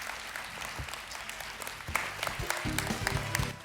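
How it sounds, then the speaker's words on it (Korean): An audience applauds architect and lecturer Francis Kéré at a design forum, with clapping building from a scattered patter into fuller, louder applause of many hands. "다시 한번 케레 교수님께 따뜻한 박수 부탁드립니다."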